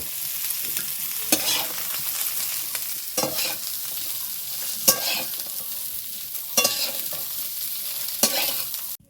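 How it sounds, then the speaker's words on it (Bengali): Potato and raw jackfruit pieces frying in oil in a pan, a steady loud sizzle broken by repeated scraping stirs of the spatula, with no voices. "ভালো করে আলু এবং কাঁঠালটাকে ভেজে নেব"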